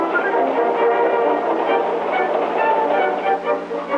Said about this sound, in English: Again, a train broken up, cars switched, classified according to destination